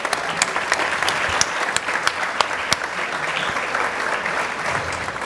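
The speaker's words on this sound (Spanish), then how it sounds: "Vamos a darle un aplauso a Jorge Barba." Audience applause at a tribute event for a keyboardist, sustained clapping with a few sharper, closer claps standing out, steady and moderately loud.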